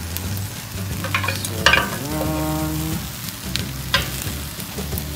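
Egg sizzles and fries in a pan with shallots while egg fried rice is made, a steady crackling hiss with occasional stirring scrapes and no voices.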